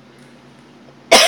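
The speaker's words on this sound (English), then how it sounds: "it's making me cough" A single sharp cough from a person reacting to the musty smell of an old book, loud and close, following a quiet stretch.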